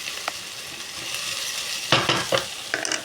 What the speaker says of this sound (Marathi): मी कांद्यासोबत कोकोनट सुद्धा टाकत आहे, फ्राय होत आहे।